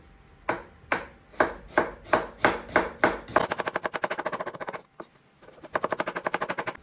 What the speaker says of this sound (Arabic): من هذا الاتجاه بنقطعها جوليان شرحات.